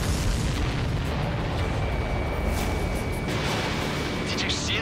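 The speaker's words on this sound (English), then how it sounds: "Did you see that explosion?" A loud, rumbling blast as an aircraft explodes in the video game Ace Combat 7, sustained roaring debris noise with dialogue running over it.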